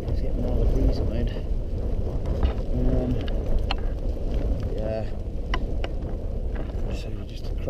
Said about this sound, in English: It's getting touch windy.